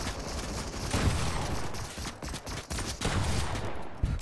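Rapid bursts of shotgun fire in the video game Fortnite crackle, with a few sharper blasts near the end, loud and dense.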